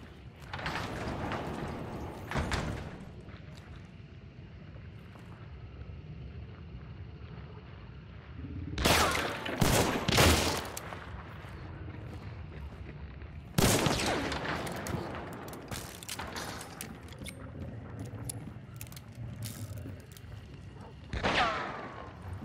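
Gunfire in the video game Hunt: Showdown, several sharp loud shots and booming blasts in separate clusters, some fired close together, with a rumbling ambient background between them.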